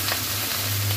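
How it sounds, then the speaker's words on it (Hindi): Vinegar poured into a hot pan of chilli potatoes crackles into a loud, steady sizzle that fills the moment without any talking. "अब हम लोग इसके अंदर डालेंगे मतलब विनेगर"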